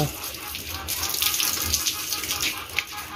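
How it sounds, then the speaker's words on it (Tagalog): Water gushes steadily from a tap or hose into a drum on a pig farm, a continuous close splashing rush with faint voices underneath. "maglagay ako ng tubig dito sa kanilang drum"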